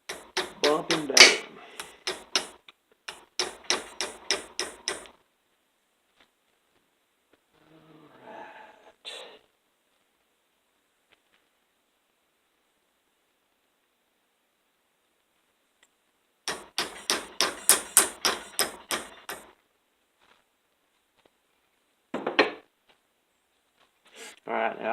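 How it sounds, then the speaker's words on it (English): Rapid bursts of sharp metallic hammer strikes in quick rhythmic runs while making trapping J-hooks and swivels, separated by pauses with a few scattered knocks. "I'm going to take my hammer and"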